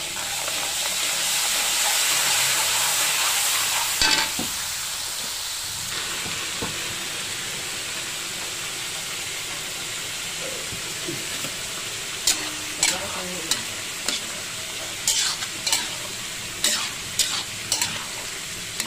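Chicken liver and gizzard adobo sizzles and hisses loudly in a pan at first, then settles to a steady fry while a utensil scrapes and clacks against the pan in a string of sharp strokes.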